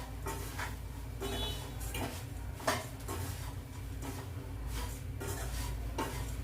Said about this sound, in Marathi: आता आपल्याला मध्यम गॅसवरच हे पोहे जे आहे हळूहळू हलवत राहायचे आणि ते छान शेकले जातात, खरपूस भाजले जातात